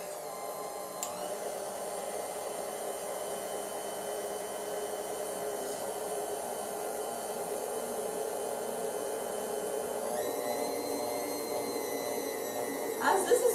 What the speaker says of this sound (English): we're gonna lower the whisking machine, lock it, and we're ready to go. So we're just gonna stir it on low